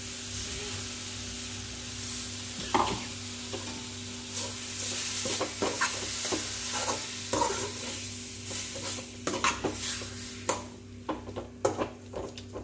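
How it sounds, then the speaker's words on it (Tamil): A thick ground spice paste for dried fish curry sizzles and is scraped around a hot frying pan with a utensil, in scattered, uneven strokes over steady frying. "சேர்த்து நல்லா கிண்டிக்கலாம்."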